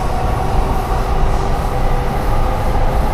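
A driverless underground metro train in Singapore running at speed, a loud, steady rumble and roar of wheels and motors filling the carriage without a break.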